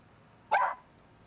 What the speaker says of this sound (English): my dog may just blew up your ears there for a second. He does little barks like that.